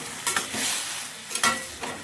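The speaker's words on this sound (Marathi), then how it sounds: "आता मी याच्यात गरम पाणी ॲड करायचं आहे आपल्याला." Hot water is poured into cluster bean curry in a hot pan, raising a brief hissing sizzle with a couple of stirring scrapes, then a second short burst of hiss.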